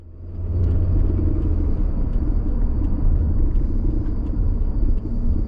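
A car makes a U-turn as another car, a sheriff's deputy's, drives off. It comes across as a continuous low engine and road rumble heard from inside, with a faint steady high whine over it and nothing else.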